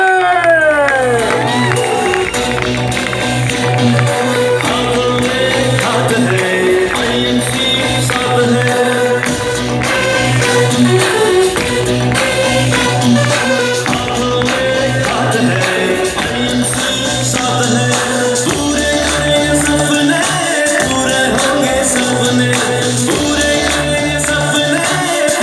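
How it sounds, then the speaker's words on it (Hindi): An audience at a stage event cheers and whoops for a guest coming on stage, the crowd noise running continuously under loud music with a steady beat. "जोरदार तालियों के बीच"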